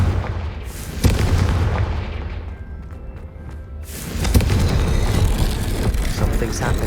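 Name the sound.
Confringo explosive spell blast, video game Hogwarts Legacy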